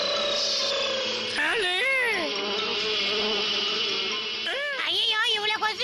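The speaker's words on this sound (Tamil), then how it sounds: "ஐயோ, இவ்வளவு கொசு எங்க இருந்து வந்துச்சு?" A dense cartoon swarm of mosquitoes whines loudly and continuously, with warbling pitch swoops and comic sound effects layered over the steady buzz.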